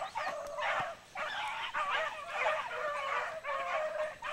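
A pack of beagles running rabbits in spring, several dogs giving tongue in overlapping yelps and bawls, moderately distant, in rhythmic bursts with short gaps between.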